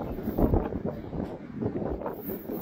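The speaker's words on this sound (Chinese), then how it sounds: "今天这个风啊，有个五级风、六级风，看到啊，风是别大的啊。" Strong wind of force five to six gusts outdoors at a fishing spot by the water, buffeting the microphone with rough, uneven low rumbling bursts that swell and fade.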